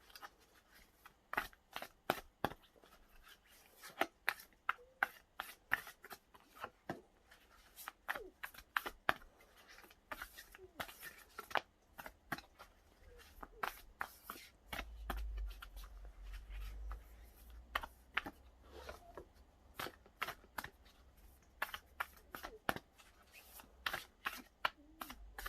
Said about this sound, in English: Very easy to shuffle.